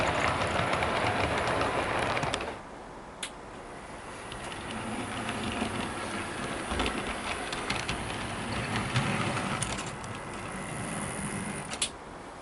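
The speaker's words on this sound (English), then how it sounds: "it certainly is quite mesmerising to see this livery of locomotive running around on your layout" A Bachmann Class 47 model diesel locomotive in police livery runs around a model railway layout, a close, steady mechanical whir and rolling rattle of wheels on track that dips briefly near the start and then continues evenly.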